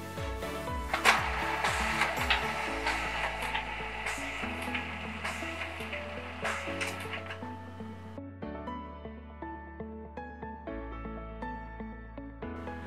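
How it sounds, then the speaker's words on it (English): An Epson DS-530 document scanner feeds and scans a stack of documents, whirring and rattling close by. Its motor pitch shifts in steps as pages pass through, and the noise grows quieter toward the end. "we'll put the documents in, adjust the guides to fit"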